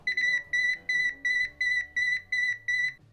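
A Nokta AccuPoint pinpointer metal detector signals ferrous metal with a close, clear series of about eight evenly spaced high-pitched beeps, each short and separated by brief gaps.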